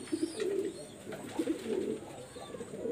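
A cream-eyed pet pigeon coos in repeated low, throaty phrases, close and fairly clear, with a steady faint background hiss.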